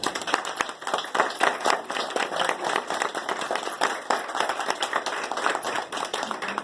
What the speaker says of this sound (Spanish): Démosle un buen aplauso.